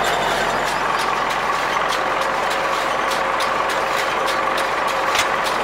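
A CLAAS Rollant 46 round baler wraps a hay bale in net over a loud, steady engine hum, with regular sharp mechanical ticks repeating roughly every half second and no voices.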